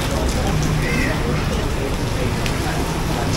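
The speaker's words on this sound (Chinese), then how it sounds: "这下雨天啊，你看都淋着雨啊" Rain falls steadily on a busy street in Malacca, a dense, close hiss with a faint murmur of people in the background.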